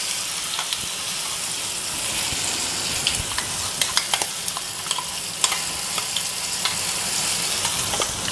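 Tamarind chutney hits hot oil with popping mustard seeds, setting off a steady loud sizzle and frying crackle with scattered sharp pops and spatters throughout.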